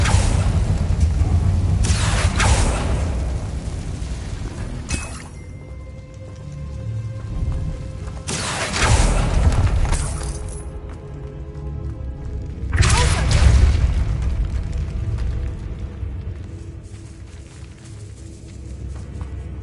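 An Incendio fire spell is cast in Hogwarts Legacy, inside a decaying, spider-infested catacomb. Several whooshing, booming blasts burst out at intervals, each fading into a low rumble, while a voice speaks over the ambience.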